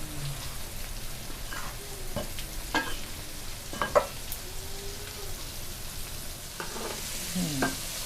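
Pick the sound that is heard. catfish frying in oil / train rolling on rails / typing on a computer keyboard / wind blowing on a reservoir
catfish frying in oil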